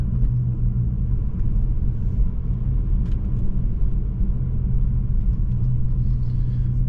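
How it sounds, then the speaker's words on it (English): A 2025 Honda Civic Si engine holds a steady, close, low rumble while the car drives on Wisconsin backroads, constant throughout with no talking. "I also love the sound of this car"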